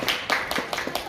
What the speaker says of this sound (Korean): 큰 박수로 맞이해주시면 감사드리겠습니다.